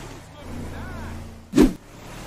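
A car in GTA V runs with a low engine drone, then a short loud burst of revving or starting cuts in near the end before settling back down.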